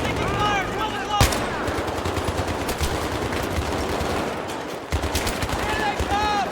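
Heavy gunfire in the Battlefield 3 mission Operation Swordbreaker: dense, continuous automatic weapon bursts with sharp single shots, loud and close, mixed with shouted voices and battle noise throughout.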